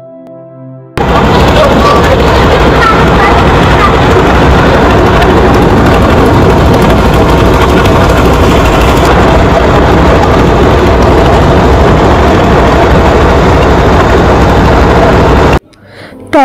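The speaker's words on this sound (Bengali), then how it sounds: "ট্রলার দিয়ে যেতে যেতে নদীর দুপারের দৃশ্যগুলো আমরা দেখছিলাম" A river trawler boat's engine drones steadily and loudly for about fourteen seconds on a waterway on the way to Nijhum Dwip in Bangladesh, starting and stopping abruptly with a broad rumbling roar.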